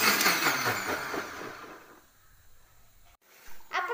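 An electric blender whirs loudly as it grinds carrots for juice, running hard for about two seconds before cutting out, then a short final burst of motor noise near the end.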